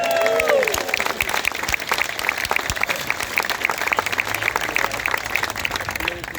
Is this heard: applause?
yes